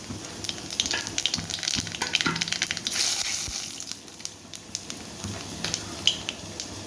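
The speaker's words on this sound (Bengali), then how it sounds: "কড়াইতে আর একটু তেল দিয়ে দিলাম দিয়ে দেবো কালো জিরে" Black cumin seeds sizzle in hot oil in a wok, used after frying fish, giving a steady crackling hiss with scattered sharp pops and light stirring clatter at close range.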